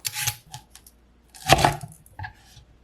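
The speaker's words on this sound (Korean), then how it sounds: "양끝은 잘라내고 가능한 얇게 슬라이스 하시고요" Knife slicing peeled lotus root thinly on a cutting board, a few sharp crunchy cuts spaced apart, close and clear with no talk.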